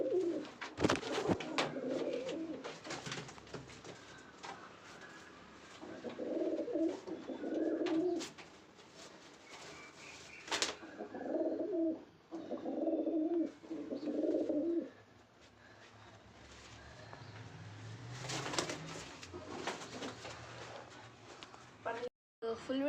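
Pigeons coo from a loft in repeated soft, low rolling bursts, several close calls spaced across the stretch alongside scattered clatter and someone talking.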